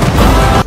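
A hydraulic crusher crushes a Mercedes car with a loud, dense burst of crunching and booming that fills the whole moment, then cuts off sharply near the end.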